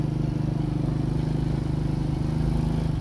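A Chinese Fekon motorcycle engine drones loudly and steadily, a low humming running note that holds evenly throughout.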